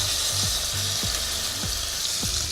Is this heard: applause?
no